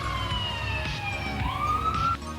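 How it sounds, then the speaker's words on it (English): Ambulance siren wailing in a town centre, a rising and falling electronic tone at moderate distance over low street and traffic rumble, with no one speaking. "Typical when you come to a town centre, you always hear ambulances or sirens going off."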